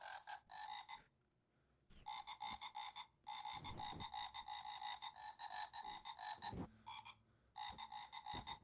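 Recorded frog croaking plays in repeated bursts of rapid raspy calls separated by short pauses, loud and close with no talk over it.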